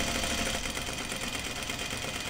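Home sewing machine stitching a seam on navy jeans, a steady, dense mechanical whir running continuously at close range.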